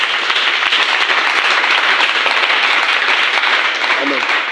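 A church congregation breaks into loud, dense applause that stays at a steady level for a few seconds, close and filling the room.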